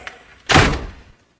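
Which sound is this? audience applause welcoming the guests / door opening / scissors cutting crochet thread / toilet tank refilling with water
door opening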